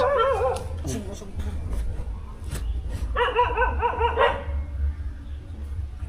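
A dog barks in two short bursts of sharp, yelping barks near a volcanic area, separated by a quiet gap with low rumbling background noise, and people talk in the scene.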